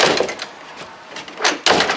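An old door being closed and tested after weather stripping was fitted, with a few soft knocks, then a firmer thump near the end as it shuts against the new seal.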